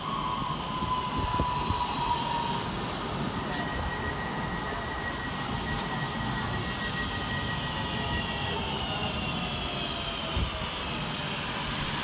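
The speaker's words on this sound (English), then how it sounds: "Arriving next into the station is 323-229, working the 1516 Northern service from Manchester Piccadilly to Crewe." A Northern class 323 electric train arrives at Wilmslow station, a steady rolling rumble with a faint electric whine and a brief squeal, close and continuous throughout.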